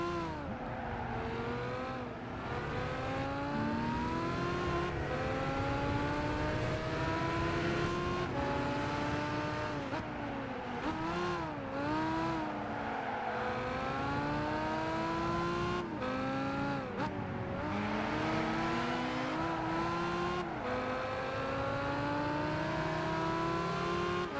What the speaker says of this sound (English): It's like that Murcielago up there has a very similar engine sound to this.